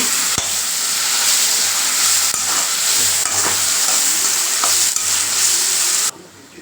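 Tomatoes and dried Bombay duck sauté in hot oil in a pan, a loud continuous sizzle broken by several sharp spoon scrapes and stirs, heard up close before the sound cuts off abruptly near the end.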